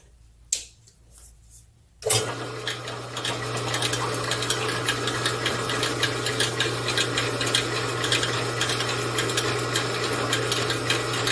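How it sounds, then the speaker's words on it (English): A steady, loud mechanical whine starts after a couple of faint taps and runs continuously, like a power drill boring into material close by, during 1930s-style toolmaking. "I'm going to drill it. It's going to be noisy."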